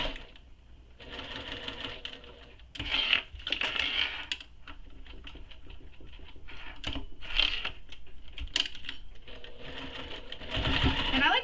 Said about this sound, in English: So we're going to stitch this in place